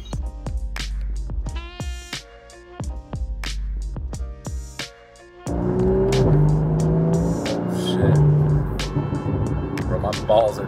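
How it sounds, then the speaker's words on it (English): A Porsche on the road: music and voices fill the first half, then a loud, steady engine and road roar takes over and holds close for the rest. "Riding in the Porsche today."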